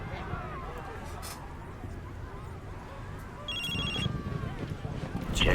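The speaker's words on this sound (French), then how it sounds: "Petit coup de téléphone." An electronic phone rings in the video game Prototype 2, a short trilling burst over a busy game soundscape of rumble and ambient noise.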